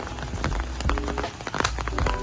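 Steady, heavy morning rain patters on surfaces close by in a garden, a dense continuous hiss with scattered louder drops throughout.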